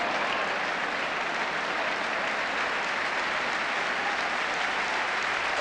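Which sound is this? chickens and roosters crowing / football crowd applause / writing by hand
football crowd applause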